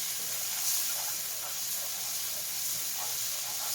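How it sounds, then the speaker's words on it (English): Spices and tomato sauce toast in a hot pan with a steady, bright sizzling hiss, continuous and moderately loud with faint stirring clinks underneath. "We're going to toast these spices just for a couple seconds."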